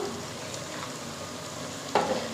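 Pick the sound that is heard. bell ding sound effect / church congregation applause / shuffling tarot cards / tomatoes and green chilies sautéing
tomatoes and green chilies sautéing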